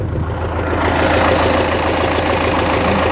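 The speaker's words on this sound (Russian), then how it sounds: "Вот такой трактор." A tractor idles close by before hay mowing with a Polish rotary mower, giving a steady mid-to-low engine rumble with a slight rhythmic knock that stays loud and even throughout.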